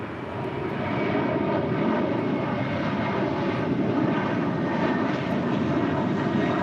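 American Airlines A321 jet taking off from runway 25 right at LAX, a steady broad engine roar that swells in the first second and then holds loud and constant, with no talk.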